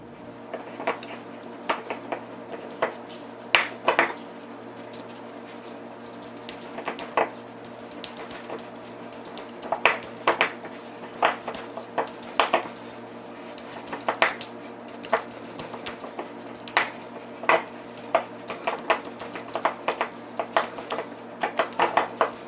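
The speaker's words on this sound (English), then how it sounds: "and then you mix it nicely until it becomes smooth and well combined" Butter and brown sugar being mixed in a bowl for peanut butter cup cookies, with irregular clinks and scrapes of a utensil against the bowl repeating over a quiet background hum, close and moderately loud.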